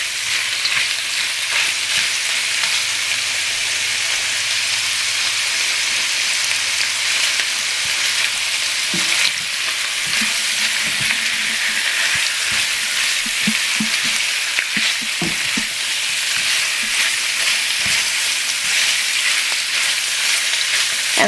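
Shrimp frying in butter with garlic in a pan, a dense, continuous hiss of sizzling held for a long stretch, with scattered soft clicks and utensil taps partway through, close and steady with no voices.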